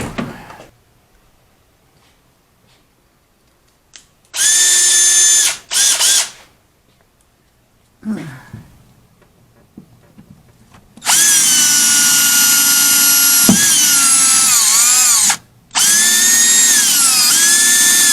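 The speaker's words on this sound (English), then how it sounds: "Let's just drill a pilot hole." Power drill boring a pilot hole during a Ford Ranger cooling system upgrade: several loud, whining bursts of spinning motor, short at first and then longer sustained runs, with quiet pauses and small handling clunks between them.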